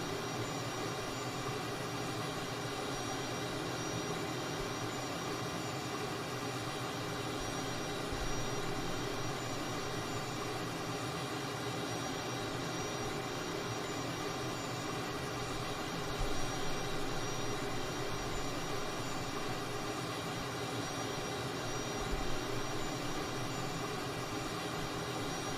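Cessna T-37 Tweet trainer jet in Microsoft Flight Simulator, a steady, even engine whine and hum held at constant level with faint occasional bumps underneath.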